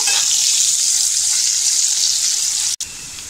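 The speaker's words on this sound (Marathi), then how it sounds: "हा फोडणीला बारीक चिरलेला कांदा टाकायचा आहे।" Finely chopped onion fries in hot tempering oil, giving a loud, steady, close hiss that continues almost without a break until a brief cut near the end.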